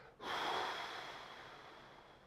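One sharp forceful breath of fire during a breathing exercise, a sudden rushing exhale that fades slowly into a soft airy hiss, close and alone.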